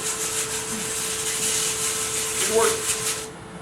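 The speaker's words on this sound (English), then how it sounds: "Right, small sanding tool." A close, steady abrasive rubbing hiss of a small 5-inch sanding disc working wood on a turned wooden ornament runs for a few seconds and then cuts off.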